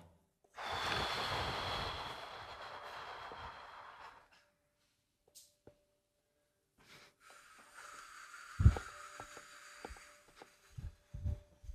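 A single deep breath during a guided meditation, a long, soft airy inhale followed after a pause by a quieter exhale with faint rustling, close and alone.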